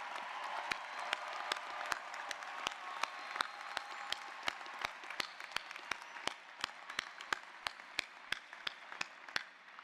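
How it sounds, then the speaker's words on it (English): A commencement crowd at a university graduation ceremony applauds in a steady, fairly distant wash of clapping, punctuated by evenly spaced sharp clicks throughout. "let's give everyone in the audience who's come to support you a big round of applause."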